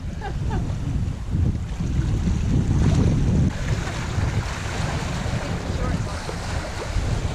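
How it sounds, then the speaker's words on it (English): The sailboat Top Secret comes alongside at sea under two sails, heard as a steady roar of wind and rushing waves against the hull, with heavy wind buffeting on the microphone throughout. "The Top Secret coming alongside, showing off with 2 sails."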